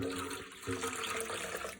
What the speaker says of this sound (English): here are my other 2 cups of water. Let's pour this in.